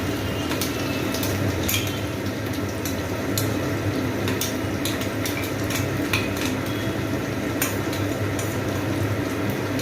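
Mutton sizzles in a pan with spice paste in a dense, steady hiss. Sharp scrapes and clinks of stirring break in now and then, and no voices are heard.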